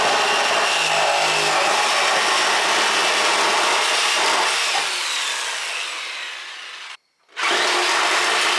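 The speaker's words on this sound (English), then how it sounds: "I'll drill a hole for the pipe" A power drill whirs steadily at close range for several seconds, cuts out briefly, then spins back up, loud and continuous.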